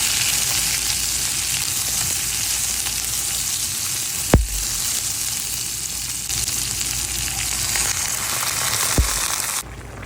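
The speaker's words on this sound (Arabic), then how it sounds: "هحمر الجزر فيها كمان شوية، الفلفل الأحمر" Carrots and red pepper sizzle steadily in a hot pan, a continuous loud fry with no talk, broken by two sharp clanks of a utensil against the pan.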